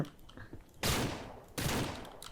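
Two loud gunshot blasts in Ranch Simulator, each a sharp burst with a trailing decay, spaced under a second apart after a quieter opening with faint background sounds.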